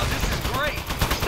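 Rapid, continuous gunfire from the video game Aperture Desk Job, dense and loud across the whole moment, with a voice talking underneath.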